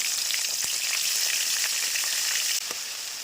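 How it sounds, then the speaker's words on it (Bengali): Prawns fry in mustard oil with a loud, continuous, close hiss of sizzling and a couple of light spoon taps. "এর মধ্যে আমি দিয়ে দেবো এই চিংড়ি মাছগুলো প্রথমে এগুলো একটু ভেজে দেবো"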